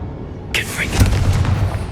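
Confringo blasting spell from the Hogwarts 64 video game: a sudden loud boom bursts in after a quiet start, followed by a rumbling, crackling blast tail with some voice activity underneath.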